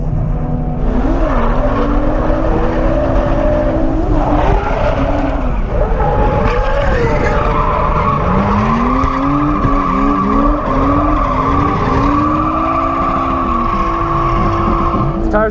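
Car tires squeal and skid over and over during night drifting on a track, the pitch swooping up and down in long arcs beneath a constant loud engine roar.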